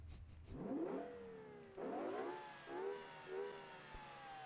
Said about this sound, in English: that's quite an impressive sound for an SUV